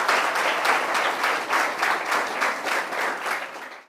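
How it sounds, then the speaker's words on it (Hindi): An audience at a panel discussion on higher education gives loud applause to welcome a geography teacher on the panel; dense, continuous clapping with a gently pulsing swell that fades out at the end. "इनका जोरदार तालियों से स्वागत कीजिए"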